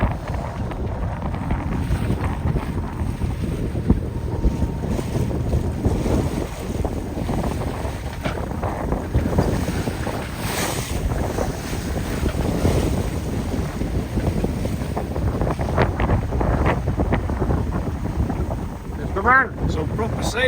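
A sailboat slicing through choppy water among mountains, its hull splashing and spray hissing continuously under heavy wind buffeting on the microphone, with a sharper splash near the end.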